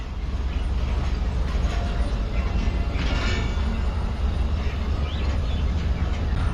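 Steady, loud rumble and rattle of the Karachi Express running in winter, heard from inside one of its few coaches, continuous throughout with no clear voices.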